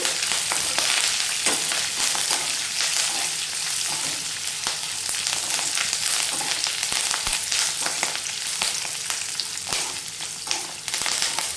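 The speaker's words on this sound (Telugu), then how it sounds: "ఎండుమిర్చిని అలాగే కరివేపాకును వేసి వేయించేసుకుందాం" Dried red chillies and curry leaves crackle and sizzle in hot oil for a mustard-seed pulihora tempering, a dense, continuous close-up frying noise with scattered sharp pops and no speech throughout.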